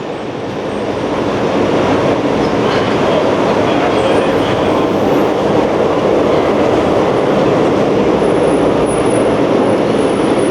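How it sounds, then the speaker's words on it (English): Inside a Walt Disney World monorail in motion, a steady loud rumble of wheels and running gear with a faint high whine, rising in the first second and then holding even, with no talking. "Getting the classic. Monorail Blue. Straight to Tomorrowland."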